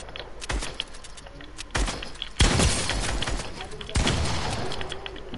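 Bursts of compact MG machine gun fire in a video game, several rapid volleys of loud cracking shots coming in separate clusters, with talk alongside.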